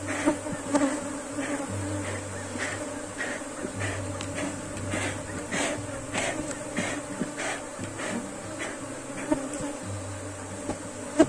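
Honey bees buzz in a steady, close drone around an opened hive, with the hum wavering in pitch and loudness as individual insects pass near.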